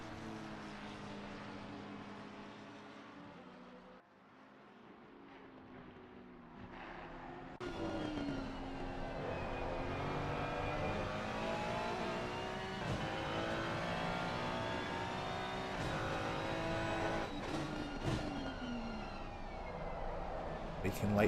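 Lamborghini, McLaren and Ferrari race cars in a sim racing game at Suzuka, their engines whining with rising and falling pitch as they chase each other, loud and continuous, swelling to a fuller roar partway through.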